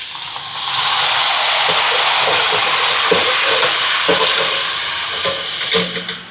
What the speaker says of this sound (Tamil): அப்படியே அந்த லீட்ஸில் இருக்கிற தண்ணியிலே வதங்கி அப்படியே வரட்டுங்க.